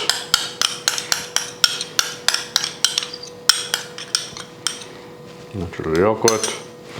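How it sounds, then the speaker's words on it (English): Natural yogurt is mixed into sour cream in a bowl for a dressing, with a spoon or whisk clinking against the bowl in quick rhythmic strokes, then a softer swirling scrape near the end. "We're blending in our natural yogurt"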